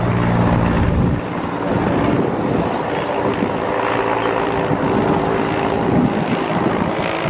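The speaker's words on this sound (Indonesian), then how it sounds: "Ini ada helikopter teman-teman." A helicopter flies overhead, used for spraying water over a vegetable garden in haze, its loud continuous rotor and engine roar filling the scene steadily and close.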